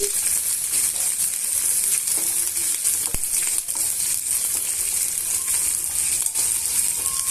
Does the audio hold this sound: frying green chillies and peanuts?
yes